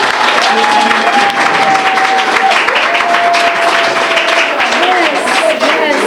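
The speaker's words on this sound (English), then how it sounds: "So I would like you all to give a round of applause." Loud, sustained applause from a large audience at a school netball launch event, with cheering and voices mixed in throughout.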